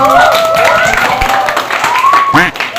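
Applause and cheering from a crowd, a continuous wash of clapping under an excited voice and whistle-like tones, loud and close.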